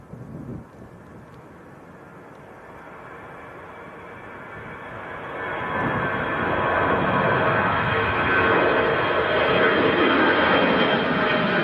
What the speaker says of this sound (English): And this is EasyJet to Paris Charles de Gaulle.